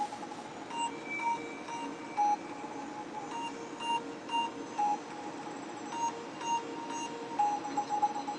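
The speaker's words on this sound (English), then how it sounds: "I was getting a phone call." A phone beeps with an incoming call, short repeated electronic tones at an irregular rhythm over a steady background hum, moderately faint, with no talking.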